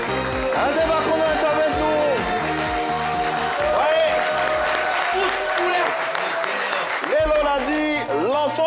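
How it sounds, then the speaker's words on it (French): A studio audience at a television talk show applauds to welcome a traditional music artist, steady clapping layered under loud music and a presenter's voice. "Encore des applaudissements pour lui, s'il vous plaît"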